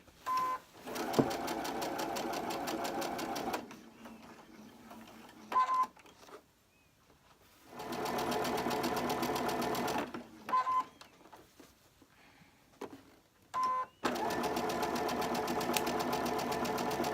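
A sewing machine stitching a long quilt strip for a beginner block runs in several steady buzzing bursts of a few seconds each. Brief pauses with small clicks and handling noises separate the runs, and the machine sounds close with no talking.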